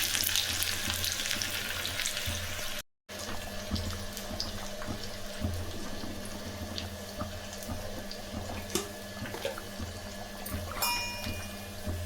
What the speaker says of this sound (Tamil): கொஞ்சமாக வெந்தயம் போட்டுக்கலாம், கொஞ்சம் கடுகு போட்டுக்கலாம். சின்ன வெங்காயம் வந்து கட் பண்ணி வச்சு அதை போட்டுக்கலாம்.